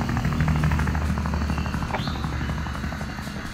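An airplane in the video game Wobbly Life drones with a steady, loud engine hum and a faint rising tone partway through, with no talking.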